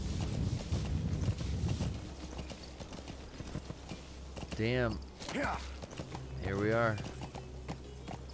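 Horse hooves beat steadily in a video game while someone talks over the rhythmic clip-clop, with game voices and tones partly masking the hoofbeats.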